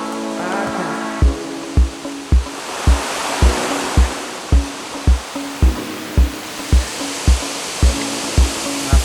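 A jungle waterfall on a hike near Boquete, Panama, roars as a steady broad rush of falling water, loud and close, with regular low thumps running through it.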